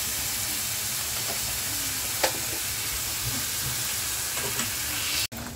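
Ginger garlic paste frying with softened onions in a pan, a steady close sizzle with occasional soft stirring clicks and a sharp knock near the end, no voices.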